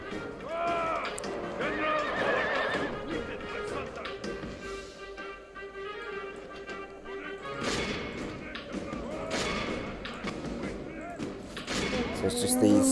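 Horses neighing and galloping amid battle in the video game Medieval 2 Total War, whinnies and hoof thuds mixed with clashing crashes and distant shouts, busy and continuous throughout.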